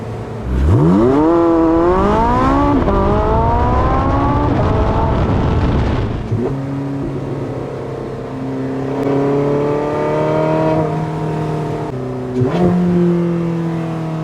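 A Porsche 918 Spyder accelerating hard at full throttle from a standstill, revs sweeping upward through several quick gear shifts, then holding a high steady drone with another shift near the end; loud, close.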